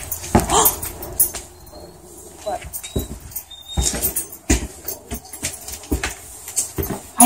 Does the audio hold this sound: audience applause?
no